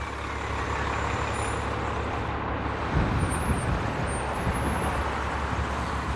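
Street traffic at Yonge and Davisville in Toronto on a mild winter Saturday, a continuous low rumble of passing vehicles with a heavier truck-like swell midway, steady and moderately close, no voices.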